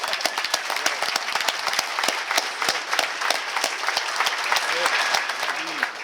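A standing audience at a Jackson Public Schools JROTC event gives Colonel Paul Willis a round of applause, with close, distinct claps over a dense crowd of clapping and some voices in the background.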